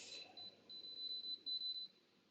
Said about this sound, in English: Sorry for the beeps.